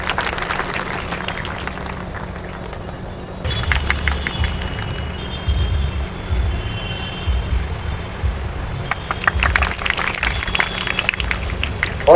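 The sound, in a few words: audience applause for students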